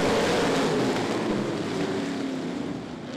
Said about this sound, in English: we got cars all over the place back here behind him racing hard for spots